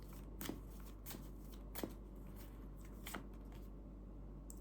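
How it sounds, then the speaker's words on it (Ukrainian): Tarot cards are shuffled softly, a few quick riffling bursts over a faint steady hum, quiet and close. "У мене три колоди, з кожної колоди я витягую по три карти"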